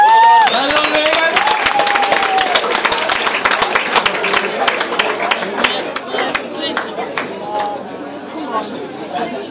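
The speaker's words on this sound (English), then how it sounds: "Give a big round of applause." A crowd claps and cheers after a bout while voices chatter loudly over it, the applause spreading through a lively room before easing off toward the end.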